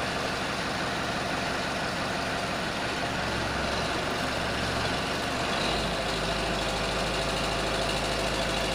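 A crane truck's diesel engine runs steadily with its boom raised during servicing, a heavy low rumble that deepens and thickens partway through, loud and close with no talk over it.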